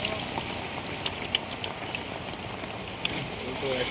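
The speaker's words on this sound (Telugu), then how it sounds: "వాన అంటే వాన." Heavy rain falling in Karimnagar, a dense steady patter of drops on surfaces, close and continuous, with a few louder drips standing out.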